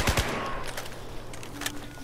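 Rapid bursts of automatic gunfire from the video game Battlefield 4 crackle over a busy background of game noise, with a couple of sharp, close reports at the start and fainter shots after.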